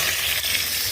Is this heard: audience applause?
no